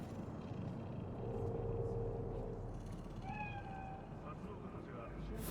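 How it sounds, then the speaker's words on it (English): A cat in the game Cyberpunk 2077 meows a couple of times, short faint calls near the middle and end, under a low ambient rumble of city noise while a voice talks. "Do you see it? That cat?"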